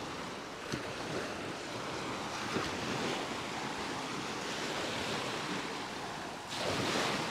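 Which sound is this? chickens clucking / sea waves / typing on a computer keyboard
sea waves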